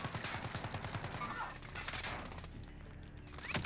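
Rapid bursts of gunfire from the Call of Duty: Warzone video game, dense and continuous with heavy rattling shots throughout and a louder crack at the end, mixed with faint voice.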